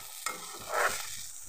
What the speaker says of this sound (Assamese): আগতে বিনখিনি ভাজি লৈছোঁ